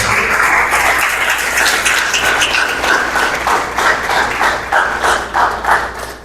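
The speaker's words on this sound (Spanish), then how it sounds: "¿Cuánto pueden dar un aplauso a Dios?" Congregation applauding in a church, a dense, steady wash of many hands clapping at close range that fades slightly toward the end, with no talk over it.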